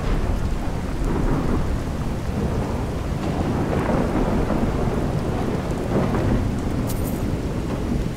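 Continuous downpour and deep rumbling thunder from a storm in the game Skyrim, loud and enveloping, swelling and easing over several seconds with no voices.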